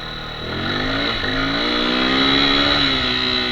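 A Mondial Xtreme Max motorcycle revs hard on slippery ground, its engine pitch climbing and holding in a loud, continuous whine as the rear wheel spins, recorded up close with no talking.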